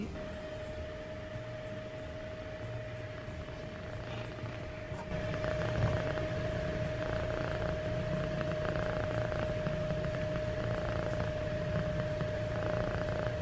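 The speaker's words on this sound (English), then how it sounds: "You can purr as much as you like" A house cat purring steadily, a soft continuous rumble close by with a faint tonal hum, growing slightly louder partway through, no talking.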